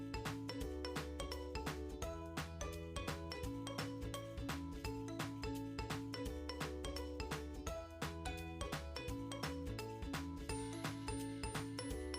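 A sewing machine stitches a jeans strap, its needle mechanism rattling in a fast, steady mechanical rhythm of closely spaced clicks that continue without pause.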